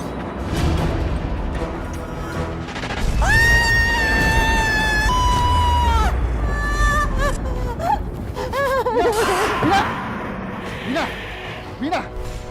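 A woman at home screams and wails in long, high, piercing cries over a background of rumbling noise and other voices, her shrieks rising and breaking off across the scene.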